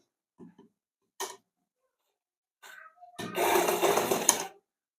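A sewing machine runs a short burst stitching tucks on the front of a blouse, a brief dense whirring stretch after a few scattered handling clicks and rustles.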